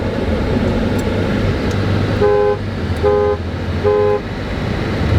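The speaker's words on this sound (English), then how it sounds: "Sweet honks." Three short horn honks sound at a steady pace over a constant rumbling engine or road noise, fairly close and loud.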